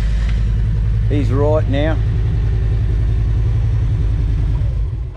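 A motorbike engine runs steadily and loud, close by, with a continuous low rumbling drone throughout; a voice speaks briefly over it partway through.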